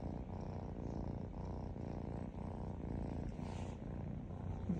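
A Maine Coon cat purrs close to the microphone, a soft, steady rumbling drone with rhythmic pulses repeating about once a second, heard alone.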